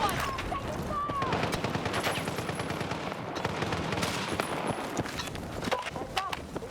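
Incoming gunfire in the Battlefield Redsec video game, a steady chatter of rapid shots and bursts filling the whole stretch, with footstep-like thuds and faint talk mixed underneath.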